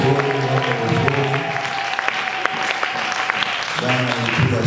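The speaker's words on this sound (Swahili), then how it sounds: "Tupige makofi kwa Mungu wazuri" A church congregation at a gospel seminar bursts into sustained, loud clapping that carries on steadily throughout, with voices cheering and talking underneath.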